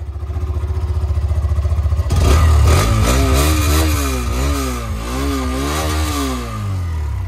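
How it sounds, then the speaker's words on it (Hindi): A Hero Xtreme 125R motorcycle engine idles with a rapid, even putter, then is revved hard into a loud, rising and falling exhaust roar. "पहले हम सुनने वाले हैं भाई एक्सट्रीम 125 का एग्जॉस्ट साउंड"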